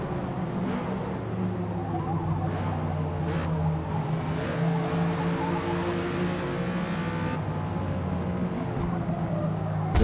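A car drifts sideways in Forza Motorsport, engine droning steadily with rising and falling pitch while tire squeal threads through, loud and continuous throughout.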